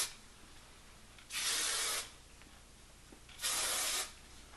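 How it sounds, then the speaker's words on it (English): Two separate bursts of Nexxus hairspray misted onto hair, each a steady hiss lasting under a second, close and clear against a quiet room with no talking. "Then the last step is hairspray. I use this one by Nexxus"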